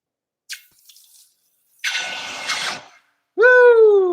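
A hot freshly poured copper piece is plunged into water, giving sharp sizzling hisses and a broad steam rush. The bursts are separated by silence and end in a loud, harmonic squeal-like tone.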